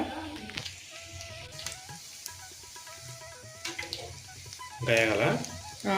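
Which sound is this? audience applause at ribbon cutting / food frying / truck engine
food frying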